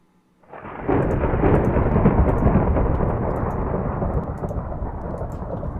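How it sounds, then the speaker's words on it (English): Loud rolling thunder in Minecraft with the Railcraft mod, rising suddenly into a sustained rumbling roar with a rain-like wash, heard alone. "Thunder is being loud."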